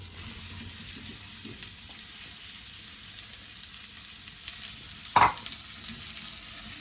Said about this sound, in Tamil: ஆயில் ஊற்றிட்டு வெங்காயத்தை வதக்கணும்